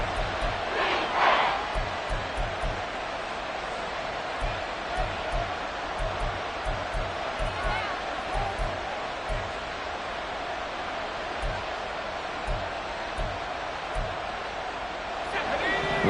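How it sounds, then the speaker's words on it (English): Stadium crowd in an American football video game, a continuous roar of cheering and noise filling the background, while a commentator's voice talks over it throughout. "This crowd doing all they can."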